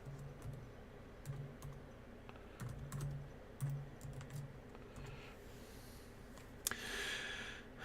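Soft keystrokes tap out a password on a computer keyboard, a quiet, irregular string of clicks in short bursts with faint breathing nearby.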